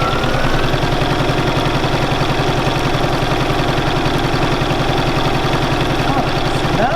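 A Bernina 475QE sewing machine stitches free machine embroidery with a continuous, fast, even mechanical whirr and rattle that stays steady and fairly loud throughout, with no voices.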